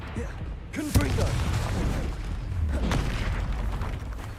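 A Confringo blast spell goes off in Hogwarts Legacy during a fight against armored trolls, giving a booming burst followed by a second rumbling impact amid continuous game combat noise.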